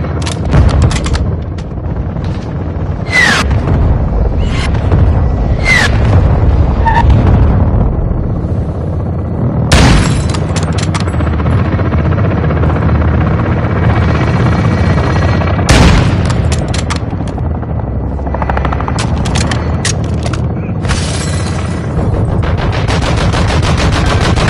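Helicopter gunfire and explosions pound a vehicle in the game Modern Warfare II, with loud sustained machine-gun bursts and heavy booms filling the scene without pause and no talk.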